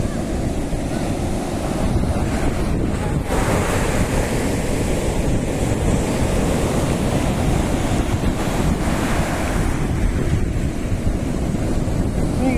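Large ocean waves surge and crash continuously, loud and close, with heavy wind buffeting the microphone throughout.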